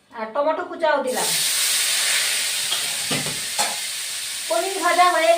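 Paneer, potato and cauliflower fry in a hot pan of oil, giving a loud, steady sizzling hiss that starts abruptly and runs for a few seconds, with someone talking before it and again over the end.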